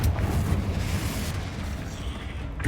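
A Confringo blasting spell explodes in Hogwarts Legacy, a heavy, rumbling boom that rolls on loudly for a few seconds with no talking.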